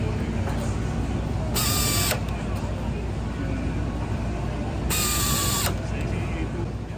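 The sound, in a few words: screws tightened with a preset torque wrench on a rifle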